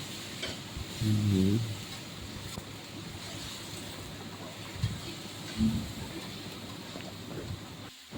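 Onions frying in a pan over medium heat give a soft, continuous sizzle with a few faint clinks and stirring sounds, quiet and close, with no talking.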